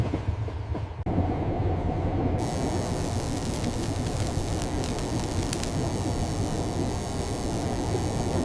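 A train gets moving with a continuous, loud rumbling roar of wheels and engine, heavy and steady throughout after a brief quieter start.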